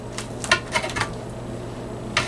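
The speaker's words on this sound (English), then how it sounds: "I'm going to cut it into a little pie shape." A knife cuts through a baked Potato Anna into a pie-shaped slice, with a few light, crisp clicks and scrapes against a plate or pan, spaced irregularly over a quiet background.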